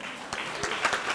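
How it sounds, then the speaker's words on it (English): A short burst of applause from a crowd, steady dense clapping that swells slightly toward the end. "Give them a round of applause."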